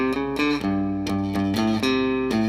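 Electric guitar playing a riff with a light pick grip: a short, distorted chugging phrase of repeated note attacks, close and loud with no talking.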